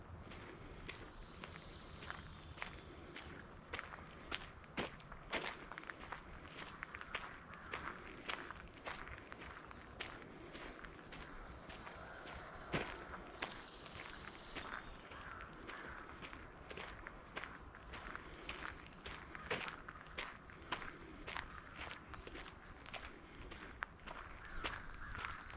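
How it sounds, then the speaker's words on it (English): Footsteps on a nature walk crunch and rustle steadily and continuously over the ground at an even walking pace, fairly faint and close, with no voices. "Maybe even being drawn back to the sound of your own steps"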